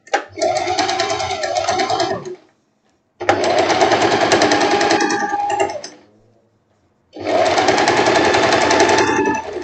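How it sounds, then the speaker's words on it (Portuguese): Sewing machine topstitching a halter-neck dress, running loud and close in three sustained bursts of several seconds each, separated by short pauses. "Vou fazer o pesponto aqui"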